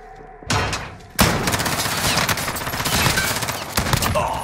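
Dense in-game gunfire from Call of Duty Warzone, a short burst followed after a brief pause by sustained, loud automatic fire with rapid shots and thumps running to the end.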